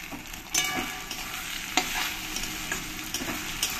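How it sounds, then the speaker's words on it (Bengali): Tomatoes sauté with fried onions in a pan for mutton kosha, a steady sizzle and frying hiss with a few louder scrapes and stirs, heard close with no talking. "পেঁয়াজের সঙ্গে কিছুক্ষণ আমি কষিয়ে নেব"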